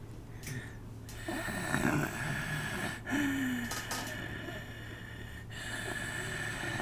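A voice imitates extremely strained breathing, with rasping, snoring-like snorts and wheezy gasps repeating irregularly over several seconds against a faint steady hum.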